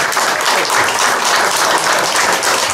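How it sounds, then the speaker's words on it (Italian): An audience at an Italian award ceremony in a residence hall breaks into loud, dense applause, a continuous wash of clapping close by. "Un applauso."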